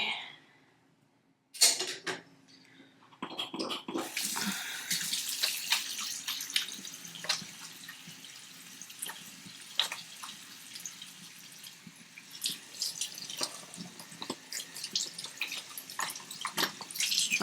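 Tap water runs steadily into a sink while a hairbrush is washed, a close hissing splash after a brief quiet start, with scattered drips and clatters over about fifteen seconds and no talk.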